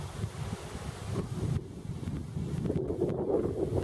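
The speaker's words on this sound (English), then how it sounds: "Wind is blowing real nice." Steady wind gusting across an open lakeside at Moreau Lake State Park on a warm day, a continuous rushing buffet over the microphone with surges and lulls and no talking.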